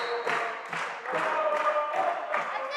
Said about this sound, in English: Listen to the crowd, baby.